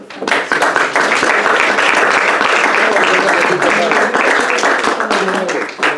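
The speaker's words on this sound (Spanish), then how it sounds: "Un fuerte aplauso." Loud, sustained applause from an audience at a university peace-education event, dense clapping filling the whole stretch with steady intensity and a slight fade near the end.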